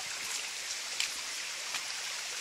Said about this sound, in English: We just climbed down from the new waterfall that's being made as we leave the old waterfall behind.